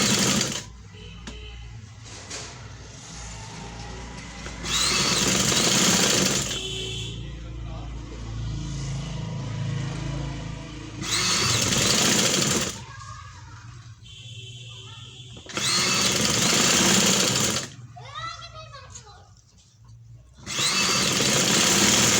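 Sewing machine stitching a sleeve design, running in several loud bursts of steady whirring separated by quieter pauses where softer handling sounds are heard, close by.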